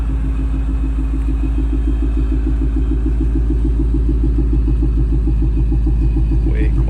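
A Ford Mustang GT V8 with a modified exhaust idles steadily up close, its loud, even burble pulsing without letup and no other sounds present.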